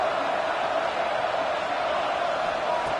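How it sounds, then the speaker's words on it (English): Steady, dense roar of a stadium crowd in a college football video game, a constant wash of cheering noise at even loudness with no breaks. "this crowd is fired up. Listen to this noise here."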